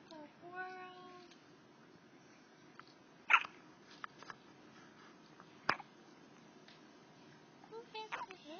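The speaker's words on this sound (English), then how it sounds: "Who has the hiccups?" Faint, small hiccups come in a few brief, isolated jolts spread over a quiet room, with some soft voicing and light background noise between them.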